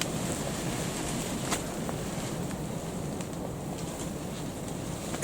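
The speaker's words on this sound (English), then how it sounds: "It's getting windier and windier." Strong wind blows outdoors around a deer hunting blind in the evening, a steady broadband rushing with muffled gusts and faint buffeting, fairly quiet and continuous, with no voices.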